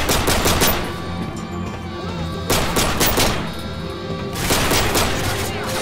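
Call of Duty: Modern Warfare 3 gunfire comes in three loud bursts of rapid shots, separated by short pauses filled with quieter battle noise.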